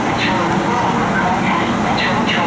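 An out-of-service WMATA metro train pulls away from an elevated station platform, a steady loud rumble of rolling cars with brief squeals and clatter throughout.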